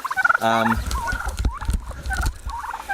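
Young turkeys at a turkey coop let out a loud, close burst of gobbling near the start, then scattered softer calls and rustling follow over a low outdoor background.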